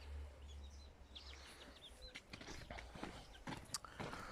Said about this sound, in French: j'ai quelques poules qui mangent des prunes